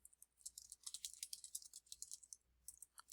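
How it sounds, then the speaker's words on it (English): Fingers type rapidly on a computer keyboard, a quiet, close run of light clicking keystrokes with a brief pause near the end and no speech. "I'm sorry about my typing."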